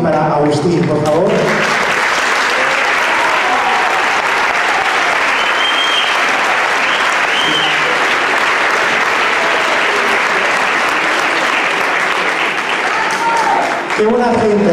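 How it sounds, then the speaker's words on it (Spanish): Loud, sustained applause from a stage show audience fills the whole stretch, dense and steady throughout, with a voice over a loudspeaker briefly audible at the start and end. "un fuerte aplauso para Avelino y para Agustín, por favor."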